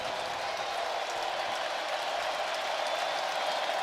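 A sellout baseball crowd of 43,000 at a Brewers–Cubs playoff game cheers and applauds steadily, a broad, even roar of clapping and voices sustained without a break.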